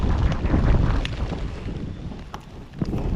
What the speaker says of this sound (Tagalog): Tinira tayo ng hangin.